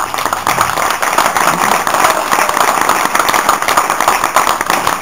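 An audience at a Loire wine student sommelier competition gives loud, continuous applause, dense overlapping clapping held steady for the whole stretch.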